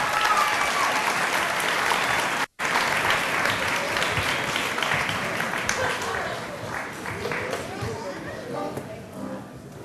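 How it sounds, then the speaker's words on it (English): A talent show audience at the 2010 Carpinteria show breaks into a round of loud, dense applause with crowd noise, continuing strongly before gradually thinning out toward the end. "Big round of applause for Jamey Geston, ladies and gentlemen."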